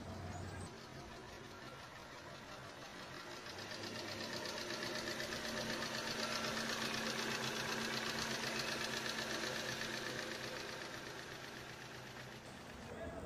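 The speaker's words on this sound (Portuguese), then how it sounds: "Então vamos escutar um pouquinho o motor dela aí funcionando." A silver 2007 Ford EcoSport idling at an auction lot, a steady close engine hum with a light ticking rattle that swells slightly in the middle, no talking.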